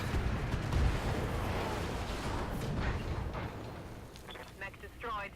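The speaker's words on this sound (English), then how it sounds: "So we'll just continue to throw shots at it until it blows up." Weapons fire and an exploding mech in the turn-based mech game BattleTech: a dense, roaring barrage of blasts and rumbling that slowly fades into scattered crackles, with a voice talking over it.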